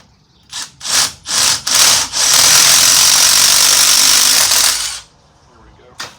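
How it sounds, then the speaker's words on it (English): A 5/16 drill bit bores through a bolt clamped in a vise during a Kubota L4701 tractor light bar install. A few short grinding bursts lead into about three seconds of steady, loud drilling, then a brief final touch. "I'm gonna go ahead and drill these."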